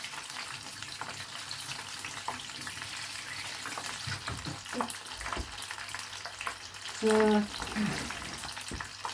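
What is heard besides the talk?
tofu pieces frying in a pan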